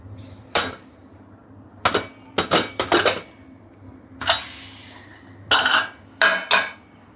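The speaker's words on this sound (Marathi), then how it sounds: "आपण उघडून बघूयात की आपलं नक्की मटण शिजलंय का नाही शिजलंय" Metal clanks and clinks as the lid comes off a cooking pot of village-style mutton curry in a home kitchen, several sharp bursts spaced irregularly over a low steady hum.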